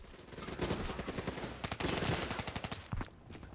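An ICR-1 assault rifle fitted with five attachments and an extended magazine fires rapid, loud automatic bursts in Black Ops 3 multiplayer, the shots rattling in long, nearly unbroken strings.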